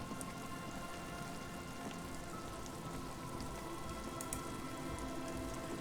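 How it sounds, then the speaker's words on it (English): Pouring rain in the video game Disco Elysium, a steady, dense patter of drops on surfaces, fairly faint and continuous, with no talking. "What is behind the tent? The pouring rain."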